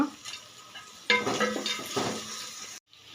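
Onions and dried chillies frying in a pan for cabbage upma, a steady close sizzle that jumps louder after the first second, with stirring scrapes running through it before it cuts off abruptly near the end.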